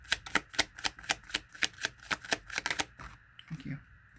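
Tarot cards being shuffled for a reading, a steady run of crisp riffling snaps about twice per second, close and clear, ending in a brief softer flutter.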